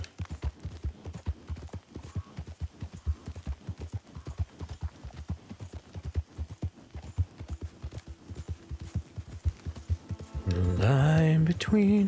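Horse hooves clip-clop in a steady, moderately loud rhythm across a camp in the Red Dead Redemption 2 video game, joined near the end by a louder burst of other game sound.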